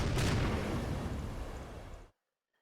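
A loud artillery blast fired by a unit in the strategy war game Hex of Steel: a heavy boom that holds for about two seconds, then cuts off abruptly into silence.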